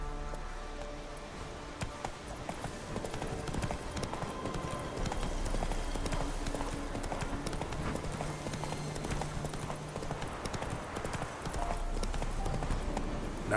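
Roach the horse gallops in The Witcher 3: Wild Hunt video game, a steady rapid drumming of hooves running throughout, close and prominent, with quiet game music underneath.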